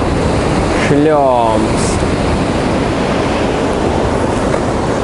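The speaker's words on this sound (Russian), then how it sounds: "Смотрите, смотрите, какая волна идет." Large sea waves crashing and rushing on a beach in Adler, Sochi, a loud constant roar of surf with wind buffeting the microphone, and a voice speaking briefly near the start.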